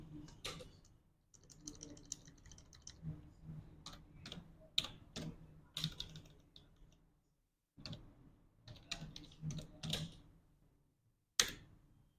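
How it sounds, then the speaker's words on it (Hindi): Fast, irregular keystrokes on a computer keyboard while entering a return address in a word processor's mailing tools, close and fairly quiet, falling in bursts separated by short pauses with a few sharper clicks. "तो यहाँ पे हमने ये टाइप कर लिया है"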